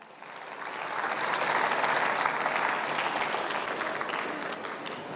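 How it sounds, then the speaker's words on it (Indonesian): Church congregation clapping after a sermon, applause rising from a soft start into a steady, moderately distant wash of many hands that eases slightly toward the end. "Beri tepuk tangan buat Tuhan"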